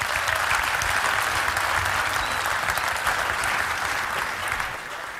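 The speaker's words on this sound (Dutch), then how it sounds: "Graag een geweldig applaus voor John Spoel." An audience at an elderly people's song festival applauds steadily, a dense continuous clapping that fills the room and fades slightly at the end.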